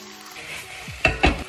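Korean gochujang sauce with rice gnocchi, spring onion, vinegar, garlic and honey cooks in a pan, a low sizzle followed by two close, loud stirring scrapes of utensil against pan.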